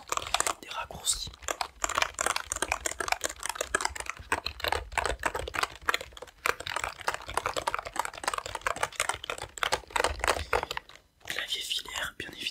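Fast, continuous clicking of a wired computer keyboard being typed on, close and crisp, with dense keystrokes running throughout and a brief pause near the end.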